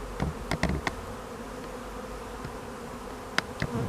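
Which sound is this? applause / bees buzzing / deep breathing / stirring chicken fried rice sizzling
bees buzzing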